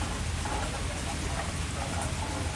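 Steady rain falls after a destructive thunderstorm in central Virginia, a soft, even broadband hiss of drops on leaves and surfaces that holds constant throughout, with no distinct thunder.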